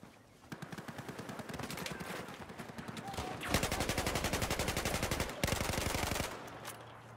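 A Battlefield 4 gunfight plays out with long, loud bursts of rapid automatic fire, broken by a few short pauses and then resuming at full intensity.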